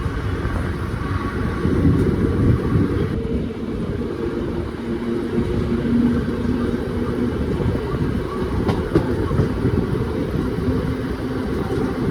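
The Malabar Express rumbles steadily along the tracks between Pazhayangadi and Ezhimala stations, a low continuous roar with faint rhythmic clatter, heard from inside a sleeper-class coach.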